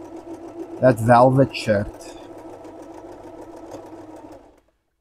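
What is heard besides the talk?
sewing machine stitching buttonholes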